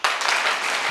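An audience in a training session claps loudly, many hands making a dense, steady burst of applause that starts abruptly and holds through the short moment.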